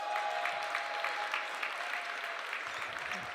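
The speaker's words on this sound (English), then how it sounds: "Y'all give her a round of applause." Crowd applause at a Black Entrepreneurs Day event at the Capitol as a state director is welcomed to the stage, a steady, even patter of many hands clapping at moderate volume with a faint tone humming underneath.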